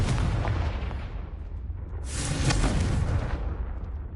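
A Confringo fire explosion spell cast in the Hogwarts Legacy video game bursts with a loud, close blast and a crackling roar that rides over constant low game rumble.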